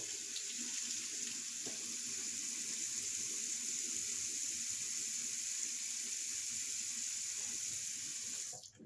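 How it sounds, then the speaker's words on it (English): Steady tap water runs into a bathroom sink during face washing, a continuous close hiss that carries for most of the stretch without talk and cuts off abruptly near the end. "I know y'all heard that water running"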